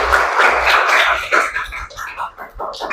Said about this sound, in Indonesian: Tepuk tangan dulu buat Mas.